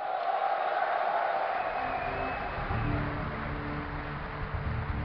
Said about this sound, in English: And if you would like Mana to win, give a cheer for Mana!